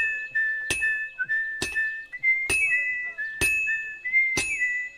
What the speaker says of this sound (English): Henry will whistle once you found the right pace.